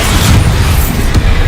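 A Bombarda spell explosion from Hogwarts Legacy: a loud, deep, rumbling boom that swells and sustains, with a sharper secondary pop near the end.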